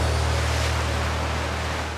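Ocean surf at Huntington Beach in Southern California makes a steady, dense roar of breaking waves, loud and continuous with a strong low rumble.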